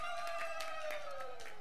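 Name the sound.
clapping and ululation at a wedding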